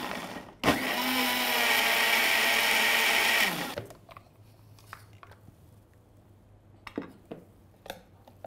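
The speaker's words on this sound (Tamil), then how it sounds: "ஸோ இப்போ வந்து நம்ம இதை அரைச்சிடலாம்." A mixer grinder whirs loudly and steadily for about three seconds as it grinds a paste for veg kuruma, then cuts off, leaving faint kitchen clatter and a few light knocks.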